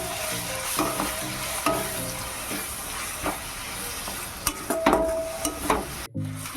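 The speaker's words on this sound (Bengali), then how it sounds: "আদা রসুন বাটা দিয়ে ভালোভাবে মিশিয়ে নেব" Fried onion being stirred in a pan with green chilli and ginger-garlic paste, a steady sizzle broken by repeated scraping strokes of the spoon, close and fairly loud, with no talking.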